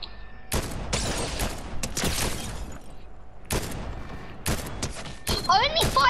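Rapid bursts of gunfire from the Fortnite video game, several loud volleys in irregular clusters separated by brief pauses, with a whooshing effect near the end.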